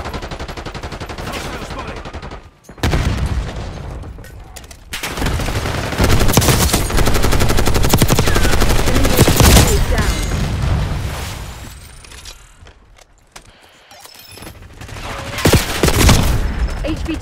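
Bursts of heavy gunfire and explosions fill a video game firefight, loud and dense with sustained automatic fire, a brief lull near the middle, then another intense volley.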